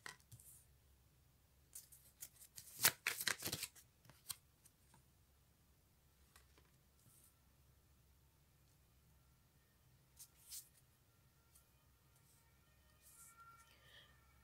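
Tarot cards are shuffled and drawn in a burst of crisp riffling and slapping near the start, followed by a few soft card flicks and handling sounds later in an otherwise quiet room.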